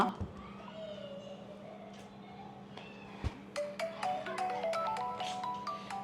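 A mobile phone rings in a home, its tonal ringtone rising and repeating over a steady hum while people talk nearby.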